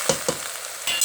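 Chopped onions tipped into a pot of partly browned meat and celery for Mexican meatball soup: a couple of quick stirring scrapes, then a close, steady frying sizzle.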